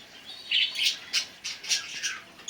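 A series of short, nasal squawks from Lotan pigeons and chicks being fed up close, repeating in uneven bursts over a quiet background.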